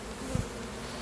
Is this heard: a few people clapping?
no